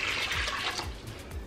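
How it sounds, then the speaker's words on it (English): Water pours steadily into a cooking pot with a continuous splashing gush, close by and with no talking. "So we're just gonna eyeball some water in here."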